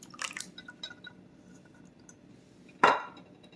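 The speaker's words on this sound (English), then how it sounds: "1 8-ounce can of tomato sauce goes in." An 8-ounce can of tomato sauce goes into a soup pot: soft wet drips and squishes early on, then one brief, louder glop as the sauce lands.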